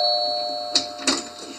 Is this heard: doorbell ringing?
yes